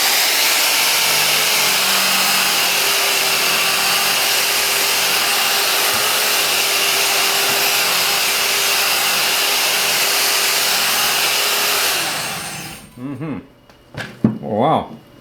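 Vevor burnishing and polishing machine running on an old rusty chrome bar, a loud steady high-pitched motor whine with abrasive grinding that holds for about twelve seconds, then winds down and stops, followed by brief speech.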